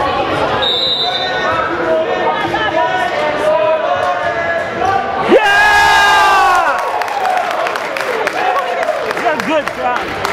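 A crowd at a 2012 boys high school volleyball city championship match cheers and shouts with rising whoops, swelling to a loud peak midway before settling back into a busy roar of voices.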